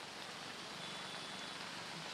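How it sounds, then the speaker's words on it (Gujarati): Steady rain falling on city streets in Vadodara, India, a continuous even hiss of drops on the roads with no breaks, moderately loud and close. "અનેક વિસ્તારમાં આ પ્રકારે વરસાદ પડી રહ્યો છે"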